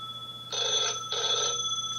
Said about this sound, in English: Susan, I'm not answering the phone right now.